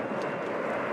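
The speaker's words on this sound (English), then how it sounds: "Delta Airlines flight 75 from Amsterdam. That's an Airbus" A Delta Airbus A350 arriving from Amsterdam at Atlanta's Hartsfield-Jackson airport makes a brief, steady jet roar, broad and loud without pause, with no voices.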